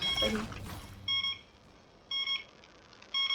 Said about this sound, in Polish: Mam budzik na ósmą.